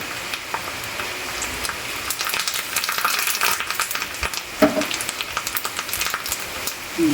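Curry leaves, lentils and turmeric tempering in hot oil for a greens pickle, a steady crackling sizzle with scattered sharp pops and spits, close up and continuous with no talking.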